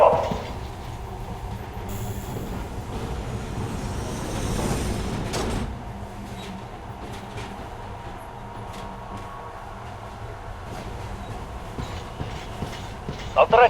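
Metro train rolling into a station in the video game Metro Last Light Redux: steady rail rumble and wheel clatter with a brief squeal, fading as it slows, while people talk over it.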